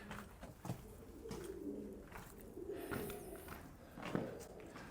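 Pigeons coo softly inside the stone water tower of Kenilworth Castle, low murmuring calls repeating faintly in the enclosed space, with a few soft footsteps and no talk.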